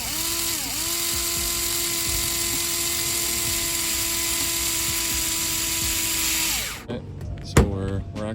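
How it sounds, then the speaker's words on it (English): A power drill runs at steady speed while boring into the front bumper of a Scion tC, a loud continuous whine that dips briefly near the start, then stops, followed by handling noises. "And just let it do the drilling."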